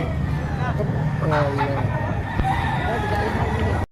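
A bullstag rooster crows at the Lipa, Batangas market, one drawn-out call rising near the middle over steady market chatter and background noise, with people talking nearby.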